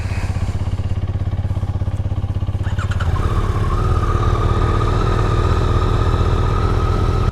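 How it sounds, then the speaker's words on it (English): Honda Rebel 300 motorcycle engine running steadily close by, a low continuous rumble that swells slightly after a few seconds with a sustained hum above it, no talking. "But this is a Honda Rebel 300"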